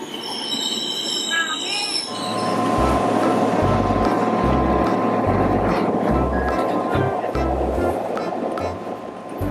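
A train rolls in loudly, wheels rumbling and clacking rhythmically with a steady squealing whine, after a brief stretch of high-pitched tones.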